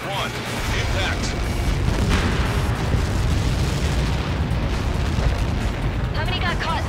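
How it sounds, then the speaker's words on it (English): A missile impact blast in the Ace Combat 7 combat flight game, a loud, sustained rumbling explosion that roars continuously for several seconds, with voices present. "How many got caught in that explosion?"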